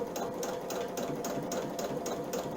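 A sewing machine runs steadily, stitching appliqué through thick fabric with a fast, even rhythmic chatter at a moderate, constant level and no talking.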